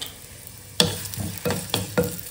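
Onions sizzle in a hot pan, with several sharp bursts as they are stirred and tossed.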